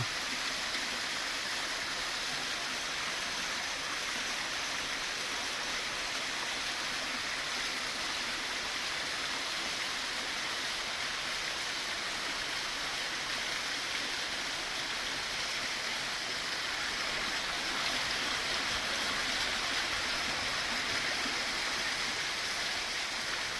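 Water pouring steadily into a small pool beside a rock temple near Ella, Sri Lanka, a dense, continuous splashing hiss, close and unbroken throughout, with no voices.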